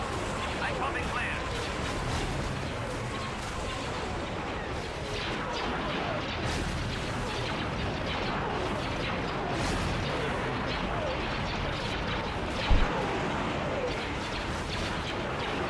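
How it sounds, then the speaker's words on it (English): Space battle in a Star Wars Empire at War remake mod, with a dense, continuous barrage of laser cannon fire and crashing impacts, one sharp louder hit near the end, under a steady wash of battle noise. "Fire on those laser cannons."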